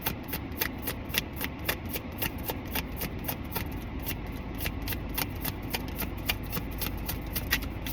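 Tarot cards are shuffled close by in a steady stream of crisp, rapid riffling flicks that go on for several seconds without a break.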